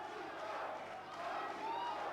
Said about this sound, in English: And the crowd are edging Malinga on.